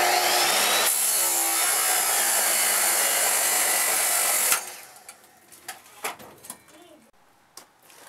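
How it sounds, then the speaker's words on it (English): A power saw grinds loudly through a metal bar for a racing mower rebuild as its blade chips a chunk off itself, a harsh sustained roar that cuts off abruptly, leaving faint scattered clatter and handling noises. "that loud sound you just heard was my saw blade removing a chunk from itself"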